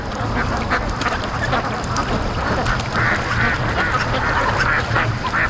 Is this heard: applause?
no